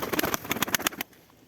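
A pigeon kept for sale coos in a quick series of soft pulses over about one second, close by, then falls quiet.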